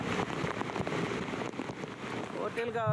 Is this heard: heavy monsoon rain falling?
yes